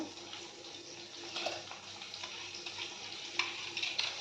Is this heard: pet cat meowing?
no